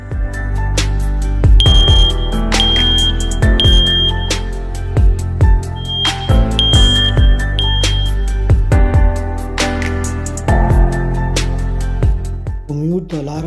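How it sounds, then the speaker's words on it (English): A DesignNest AirCube smoke detector sounds off during a smoke test, loud repeated piercing beeps in a steady pattern with brief gaps, close up and clear, with clicks and handling noise between bursts. "To mute the alarm, we have to press the mute button in the front."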